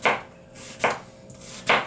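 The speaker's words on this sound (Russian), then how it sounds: "Сейчас мы будем нарезать лук." Three crisp knife chops through white onion on a cutting board, spaced evenly about a second apart, close and clear with no voices.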